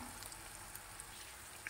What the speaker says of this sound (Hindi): जितने हमारी कढ़ाई में आ जाएंगे उतने हम डालेंगे, और मीडियम फ्लेम पर इनको हम फ्राई करेंगे।